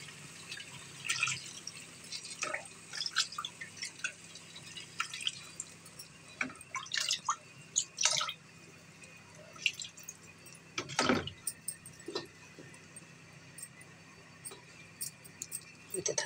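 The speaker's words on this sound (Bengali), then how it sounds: "আমি জল দিয়ে দেবো।" Water drips and splashes in short irregular bursts as it is added to a pot of browned, braised meat, the small wet taps close and fairly faint with no talking.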